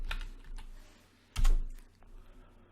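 Typing on a computer keyboard, a few soft keystrokes followed by a louder cluster of taps midway, close and alone with no talk.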